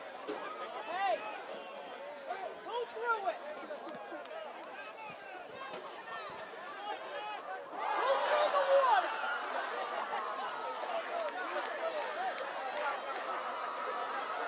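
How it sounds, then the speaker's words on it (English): Spectators at a high school boys soccer tournament game, a Massachusetts North quarterfinal, cheer and chatter steadily under a commentator's voice, then swell into a louder roar partway through before settling into a sustained, busy murmur. "And you can hear this crowd out here."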